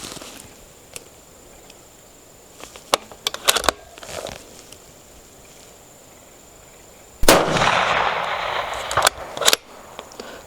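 A Sig Cross rifle in 6.5 Creedmoor fires one sharp, loud shot at a long-range target, a single crack followed by a short burst of rumble and rattle. Scattered clicks and handling noises come before it, with no talk.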